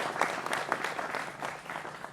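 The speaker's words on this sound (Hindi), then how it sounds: "जोरदार तालियों के साथ अभिनंदन करिए तमाम मेहमानों का" A studio audience at a Hindi political debate show claps to welcome the guests, a moderately loud, even wash of applause with no voices.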